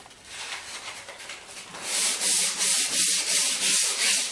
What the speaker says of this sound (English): we can clean it all up with some sandpaper wrapped around a scraper